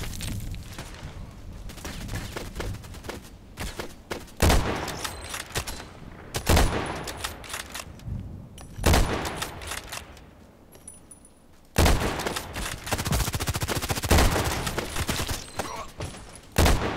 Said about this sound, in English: Just using the sniper from this lovely position.